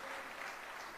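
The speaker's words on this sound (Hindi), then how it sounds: "अरे ताली बजाने की क्यों गुजरातियों को जल्दी है?" Audience at a Hindi speech applauding, with a dense, steady patter of many hands clapping at a distance, faint and unbroken for a second.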